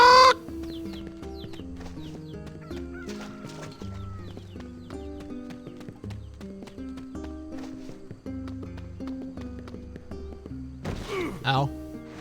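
Chickens cluck in the video game NieR Gestalt, a few scattered clucks over steady background game music, with a voice breaking in loudly at the start and near the end.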